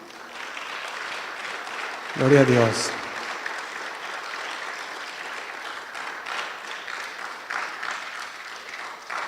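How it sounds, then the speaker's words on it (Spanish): A congregation at a Spanish-language church gathering claps for the Lord: after a short spoken exclamation, a broad, continuous patter of many hands fills the room at moderate loudness, with voices mixed in. "¿Damos un aplauso al Señor?"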